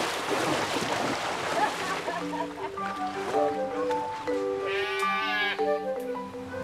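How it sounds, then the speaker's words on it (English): Sheep bleat repeatedly on a Tudor monastery farm near a pond during shearing, several wavering calls overlapping in the second half above outdoor noise and background talk. "Yeah, runaway sheep."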